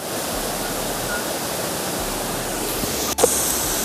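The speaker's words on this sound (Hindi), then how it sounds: "ये पानी नीचे से गिर के नीचे नहर में मिल रहा है" A waterfall in Baguio, Philippines, pours down into a canal below, making a steady, loud, even rush of water that fills the whole stretch, with a brief bump near the end.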